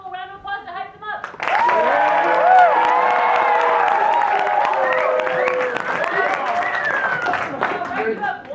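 An audience at an improv comedy show bursts into loud applause and cheering with whoops and voices, starting after a brief moment of talk and holding strong for several seconds.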